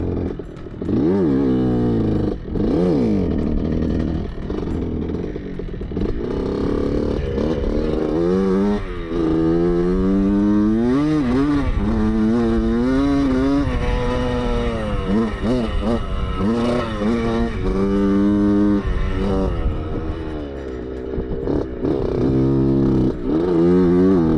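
A 1977 Honda CR125 two-stroke motorcycle engine runs and revs loudly and continuously, its pitch rising and falling with throttle blips, sounding rough and unhealthy, close by.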